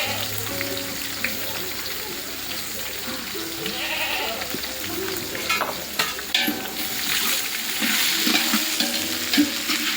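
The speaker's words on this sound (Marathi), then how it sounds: "कांदा छानसा भाजायला लागला." Onions fry for Pandharpuri biryani with a steady, loud sizzle while a utensil stirs and scrapes through them in a pan.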